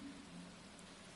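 Steady, soft rainfall in the farming game Stardew Valley, a faint continuous hiss of drops with a low rumbling undertone, no voices.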